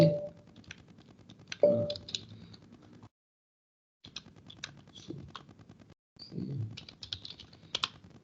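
Typing on a computer keyboard while entering commands during an operating system setup, quick bursts of close clicking keystrokes with a few heavier key presses, separated by brief silent pauses.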